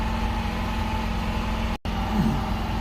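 A 2008 Lexus RX 350 engine, just repaired after an engine coolant temperature sensor fault, runs at a steady idle with a constant low hum and a brief dropout partway through.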